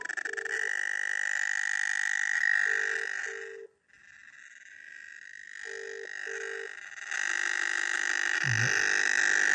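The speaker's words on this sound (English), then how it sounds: "you can hear her phone ringing downstairs or wherever it is" Mobile phone ringing from another room, a steady electronic tone repeating in regular bursts with brief gaps between them, fairly distant and muffled.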